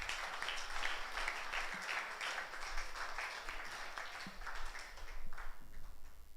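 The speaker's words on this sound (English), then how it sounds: "let us once again give him a round of applause" A seated symposium audience at a theological gathering claps in a steady, fairly faint round of applause, scattered hand claps blending into a sustained patter with no talk.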